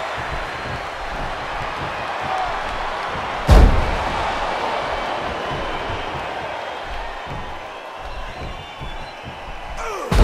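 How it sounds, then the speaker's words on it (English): A heavy power bomb slam in the WWE 12 wrestling video game lands as one sharp, loud thud, with an arena crowd roaring steadily before and after. "There's a sick power bomb"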